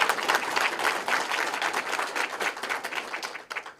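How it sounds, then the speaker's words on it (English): Congregation at a regional address gives a sustained round of applause, a dense, fairly close patter of many hands clapping that fades slightly toward the end. "let us give God a hand of applause"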